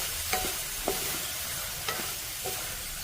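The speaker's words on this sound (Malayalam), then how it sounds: "വീണ്ടും നല്ലതുപോലെ ഒന്ന് മിക്സ് ചെയ്യാം." A spoon stirs chickpea curry with tomato in a hot pan, the food sizzling and frying steadily underneath, with a few soft scraping strokes standing out against the continuous crackle.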